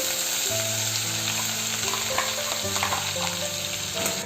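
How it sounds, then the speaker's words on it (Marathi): Spice paste for Maharashtrian misal fries in hot oil, a loud steady sizzle and crackle heard close up without a break, with faint stirring under a droning tone. "मसाले तेलामध्ये छान फ्राय करून घ्यायचे आहेत"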